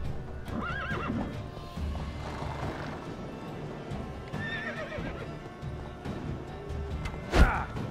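A horse in The Witcher 3 gallops with steady clip-clopping hooves and whinnies several times, with a sharp loud impact near the end.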